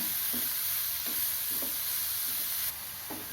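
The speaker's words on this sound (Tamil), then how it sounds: "இப்போ சிம்மில் வச்சு தான் வதக்கிறேன் கொஞ்சம் நிதானமாக வதங்கட்டும்" Carrot and onion sauté gently over a low flame in a pan for sprouted green gram sundal, giving a soft, steady hiss broken by a few light stirring scrapes.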